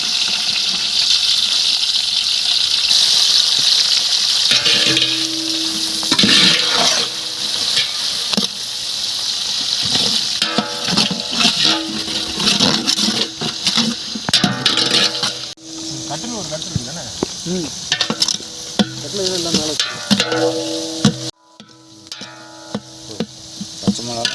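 About three-quarters of a kilo of chopped onions hit hot oil for Arabian mandi biryani, setting off a loud, steady sizzling hiss with watery gushing and occasional stirring clatter, fading briefly near the end.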